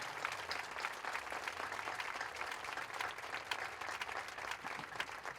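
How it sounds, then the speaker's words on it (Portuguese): Church crowd at a Marcha para Jesus gathering in Lajedo applauding, dense continuous clapping held at a fairly distant, even level throughout. "agora vamos aplaudir o Senhor com mais forças"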